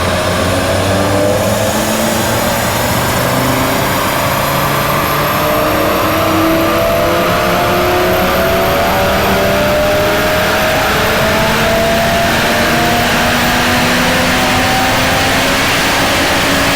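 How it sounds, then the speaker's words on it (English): An Audi TT RS running pulls on a dyno at a Japfest car show, the five-cylinder engine droning loud and constant with rising and falling revs, heard close and overwhelming throughout. "his TTRS going on the dyno"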